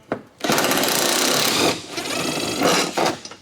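A bolt being removed from a car's hood during engine removal: a loud, close, continuous rattling mechanical whir lasting about three seconds, dipping briefly midway, with no talking.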